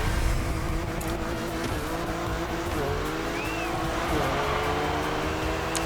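A convertible BMW M4 in The Crew Motorfest game, a continuous loud engine tone that rises and falls with the throttle, plus tyre and road noise and no gaps.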